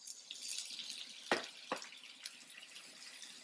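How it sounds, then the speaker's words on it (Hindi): A quarter cup of water is poured into frying spices with red chili in a pan for chana chaat, giving a soft splashing trickle with two sharp sizzling bursts, fairly faint and with no talk. "जल्दी से पहले थोड़ा पानी डाल दूंगी, क्वार्टर कप, तक ये जलने ना पाए मसाला मेरा।"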